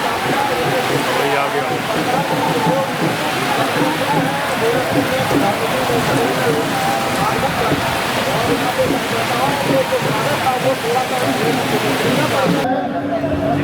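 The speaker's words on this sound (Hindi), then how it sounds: "क्योंकि बरसात हो रही है तो यहाँ पर देख सकते हैं बकायदा किस तरीके से वर्षा हो रही है" Heavy rain pours steadily onto surfaces on a street in Gorakhpur, a loud, continuous dense hiss that runs unbroken before cutting off abruptly near the end.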